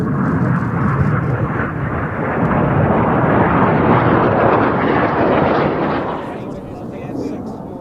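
Jet aircraft roaring past at an airshow, the synchro pair flying an opposition pass toward each other at high closing speed; a loud, sustained broadband rumble swells and holds, then eases slightly as the jets clear.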